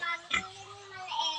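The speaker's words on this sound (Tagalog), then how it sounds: "Katayin baboy ni Mami Nene" A pig on a rural farm gives a short grunting oink, close and moderately loud, in a quiet setting with no talking.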